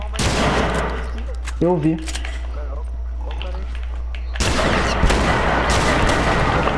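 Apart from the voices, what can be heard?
gunshots shooting at a bomb in video game The Last of Us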